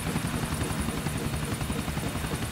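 Helicopter in the video game GTA IV, its rotor chopping steadily and loudly with a continuous engine drone, heard alone without speech.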